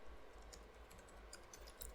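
Typing an IP address on a computer keyboard: a quick run of faint, light key clicks over low background hum.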